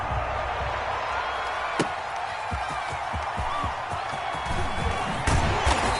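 A stadium crowd in a PS4 American football game between the Tennessee Titans and New York Jets roars as a continuous loud wash, with thuds and slaps from the game through it and occasional commentary.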